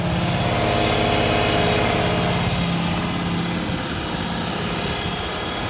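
A Lahman skid steer's 20-horsepower gas engine idles close by with a steady, even chugging that keeps going, easing slightly softer toward the end.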